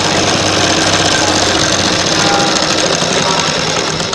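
A sewing machine stitches a net slip in a continuous loud, rapid mechanical whir and clatter close by, with no breaks across the whole stretch.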